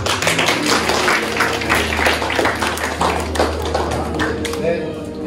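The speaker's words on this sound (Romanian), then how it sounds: "aplauze!" Wedding guests in a church in Strășeni clapping together, a dense, steady round of applause lasting several seconds, with a low hum and some voices underneath.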